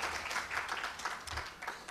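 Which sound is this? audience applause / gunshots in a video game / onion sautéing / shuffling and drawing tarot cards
audience applause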